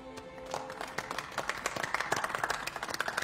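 Applause from an audience at a tribute gathering honoring a woman's years of service, steady dense clapping building and continuing alone throughout.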